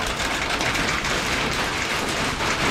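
Continuous steady hiss of rain falling outdoors in Texas, even and dense with no distinct drops standing out, moderately loud throughout.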